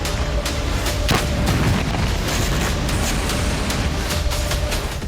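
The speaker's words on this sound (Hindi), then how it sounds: "ड्रोन से जबरदस्त धमाका हुआ और रूस के हैंगर में तबाही मच गई।" A kamikaze drone explodes inside a Russian hangar holding tanks and armoured vehicles, producing dense, loud rumbling with repeated sharp cracks and bangs throughout.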